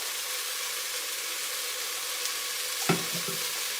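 Chili simmering in a pot with a good amount of minced garlic added, giving a steady, even sizzle and hiss throughout, with a single brief clunk of a utensil against the pot near the end.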